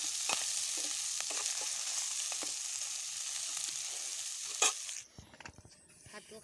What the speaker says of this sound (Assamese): ইয়াতে মাছ ভাজি আছোঁ।